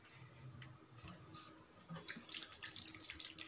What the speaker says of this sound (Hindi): हमें इसके ऊपर अच्छी तरह पानी डालनी है